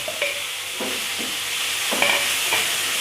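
Fried prawns are stirred into a sizzling onion-tomato masala in a pan for Kerala-style prawn roast, with a steady frying hiss and several distinct scraping strokes of the spoon, up close and without talk.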